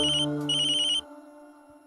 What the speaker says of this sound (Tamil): உனக்கு தான் ஃபோன்.